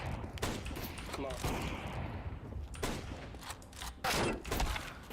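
Gunfire in a video game, loud bursts and repeated shots overlapping with dense game noise, thumps and mechanical sounds for several seconds.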